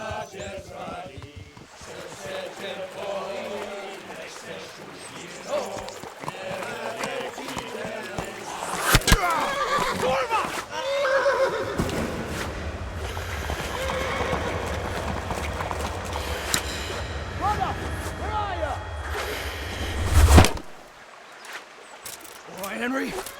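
In the Kingdom Come: Deliverance game, hooves clatter and horses whinny beside a river bank amid shouting voices, with a low rushing rumble building midway and a sharp burst near the end.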